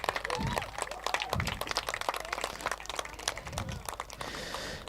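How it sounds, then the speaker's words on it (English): Scattered, crisp hand clapping from a modest audience at a women's cricket carnival, irregular and fairly close, rising in bursts and thinning out toward the end. "So huge round of applause to Pragati."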